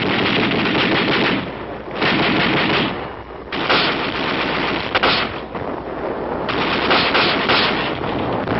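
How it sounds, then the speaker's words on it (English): Automatic rifle fire in Korean War combat, long sustained bursts of rapid shots rattling loudly, broken by short pauses, with a dull, bandlimited archival tone. "The auto rifle."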